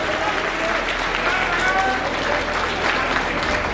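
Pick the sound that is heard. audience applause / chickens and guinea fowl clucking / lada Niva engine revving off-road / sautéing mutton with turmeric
audience applause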